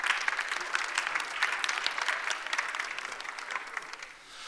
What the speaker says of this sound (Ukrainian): Будь ласка, під ваші оплески.